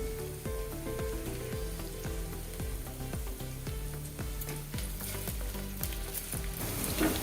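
Curry leaves fry in hot oil in a pan for Maharashtrian masale bhat, giving a loud, continuous crackling sizzle with repeated clattering stirs at a steady rhythm, with no voices.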